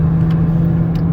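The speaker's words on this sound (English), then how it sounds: "Listen to the engine run, feel the transmission shift" A 2019 Chrysler Pacifica Touring L wheelchair van engine hums steadily under acceleration on the highway, a close, continuous low drone with road noise.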